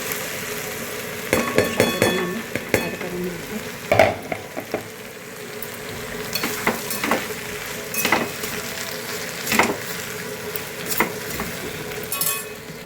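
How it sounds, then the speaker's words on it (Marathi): Potato pieces fry with a steady sizzle in a pan for sabudana khichdi, while a spoon stirs them in repeated scraping strokes and light clinks against the metal, close and fairly loud with no talk. "बऱ्यापैकी बटाटा फ्राय झालेला आहे"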